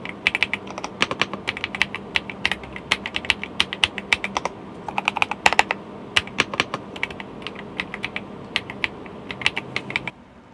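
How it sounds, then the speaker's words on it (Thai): Keys clack on an AJAZZ AK870 mechanical keyboard, a close, crisp run of irregular taps with brief pauses and small bursts, stopping near the end. "เรามาทดสอบเสียงนะคะจากการพิมพ์ว่าถ้าฟังใกล้ๆเนี่ยเสียงมันจะเป็นยังไง"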